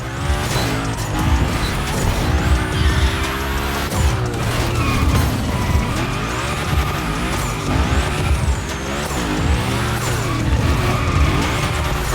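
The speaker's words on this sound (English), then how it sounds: "Du fährst das einzige Hoonigan E-Auto und das vermutlich stärkste Gymkhana-Auto überhaupt, den Audi Hoonitron." The Audi Hoonitron, an electric Hoonigan Gymkhana car in The Crew Motorfest, whines and screeches through continuous loud tire squeals and skids, its electric drive tone sweeping up and down as it slides hard.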